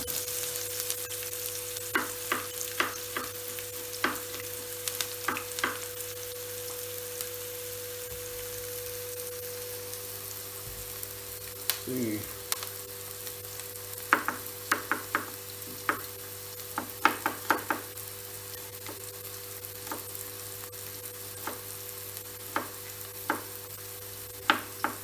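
Onions fry quietly in a pan with a soft, steady sizzle, broken by scattered crackles and pops and a brief scrape of stirring midway.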